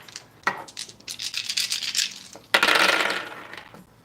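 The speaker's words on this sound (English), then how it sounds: "Hold up, because I didn't even roll the dice." Small dice rattle and clatter across a hard surface in two bursts of tumbling clicks, the second louder and longer, close up with no talk.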